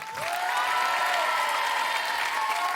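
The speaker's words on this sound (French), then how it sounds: "Ça s'applaudit tout de même." Studio audience applause at a French music television show, a dense, steady wash of clapping that holds loud and even throughout, with no voices over it.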